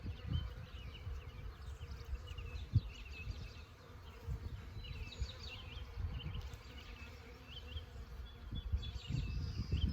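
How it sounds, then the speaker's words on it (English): Robbing bees buzz steadily around a dead beehive, a dense continuous insect drone close by with individual bees flitting past, lasting throughout without speech. "It looks to me more like robbing bees"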